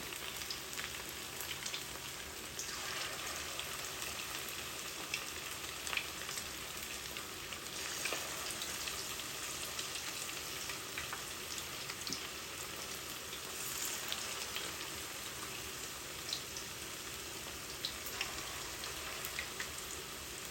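Meat kofta balls frying in hot oil give a steady, soft, even sizzle that crackles continuously at low volume with no voices over it.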